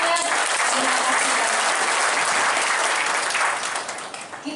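Audience at an indoor declaration event in Indonesia applauding, a dense, loud, sustained clapping that fills the room and fades slightly near the end.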